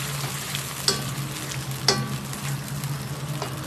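Stink beans (sator) being stir-fried in a wok give a dense sizzle close by, with two sharp metallic clacks of a spatula on the wok and softer scraping in between. No voices are heard.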